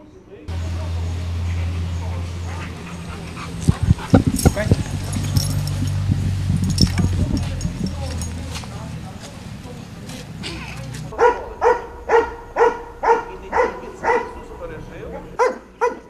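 A shepherd dog from Ternopil barks in a rapid, evenly spaced series during search-and-rescue training in Portugal, close and loud, after a stretch of people talking over outdoor noise.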